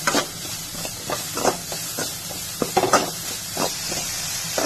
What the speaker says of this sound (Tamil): நீங்க வெறும் பூசணிக்காய் மட்டும் கூட போட்டுட்டு வதக்கிடுங்க